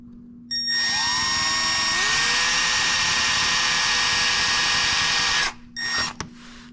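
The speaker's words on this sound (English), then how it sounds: "I'm going to go ahead and drill a hole right here." A power drill drilling a hole in a Honda CBR600RR motorcycle being prepared for racing whirs steadily for about five seconds, its pitch rising slightly as it spins up, then cuts off, followed by a couple of brief clicks.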